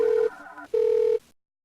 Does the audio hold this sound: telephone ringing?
yes